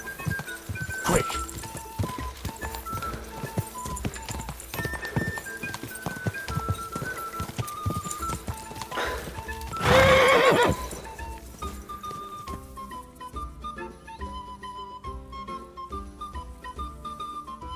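Horse in Kingdom Come Deliverance II neighing and whinnying repeatedly amid hoof clip-clop, with a loud burst of galloping around the middle over a steady game soundscape and music.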